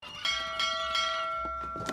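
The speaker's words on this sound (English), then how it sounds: "What's that? Three bells!" A signal bell rings three times in close succession, fairly loud and near, with each strike leaving a lingering metallic tone that decays under a faint background hum.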